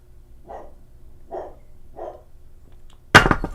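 A dog barks somewhere downstairs indoors: three short, muffled barks spaced evenly, then a sudden louder burst of noise closes the moment.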